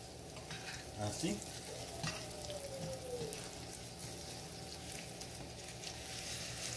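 Chicken frying in about a quarter cup of oil in a pan gives a faint, steady crackling sizzle close by, with a brief word spoken over it.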